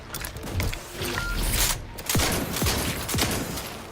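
Gunfire in a space-themed video game: several sharp shots spaced irregularly in the second half, loud and close over a noisy, busy background.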